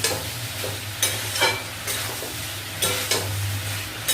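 Potato and ridge gourd pieces fry in a pan with a steady sizzle beneath repeated scraping stirs of a spatula, several strokes spaced about a second apart.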